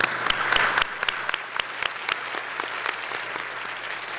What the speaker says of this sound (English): And let's please give a round of applause for all of our sponsors.